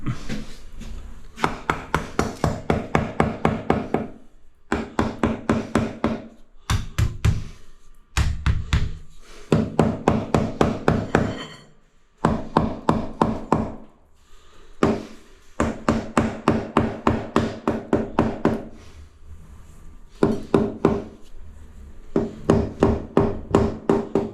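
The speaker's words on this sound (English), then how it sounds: "Rubber hammer." Steady rhythmic tapping in bursts of rapid blows as a rubber mallet strikes aluminium trim on a niche edge, with brief pauses between runs; close and fairly loud, no voices.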